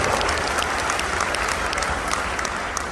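An audience at a network marketing seminar breaks into dense, sustained applause, many hands clapping loudly and steadily for the full stretch with no speech over it.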